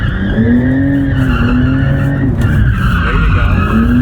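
A Porsche 911 sports car slides on a low-friction handling track, its tires skidding and squealing continuously over a loud, steady engine drone, heard from inside the car.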